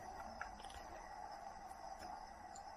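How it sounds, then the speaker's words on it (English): Crickets chirp in a steady, faint chorus along the Awa'awapuhi hiking trail, a continuous high insect trill in a quiet natural setting with no voices. "you hear all the crickets?"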